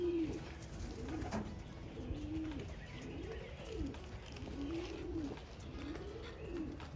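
Racing pigeons cooing in a loft, a run of soft, rolling coos repeating at a steady rhythm over faint background noise, with no talking.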